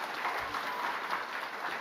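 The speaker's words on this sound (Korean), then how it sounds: "우리 뜨거운 감사의 박수 한번 합시다." A church congregation claps in thanks during a Lunar New Year service, a soft, continuous patter of many hands heard from a distance.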